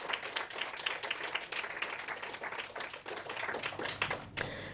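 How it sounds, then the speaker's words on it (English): An audience at the Girls 20 Summit in Moscow claps steadily for several seconds, a moderately distant, even patter of many hands with no voices over it. "So a round of applause to all those people."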